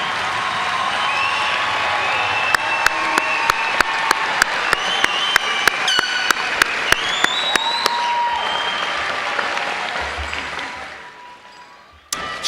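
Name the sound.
applause for graduates at commencement ceremony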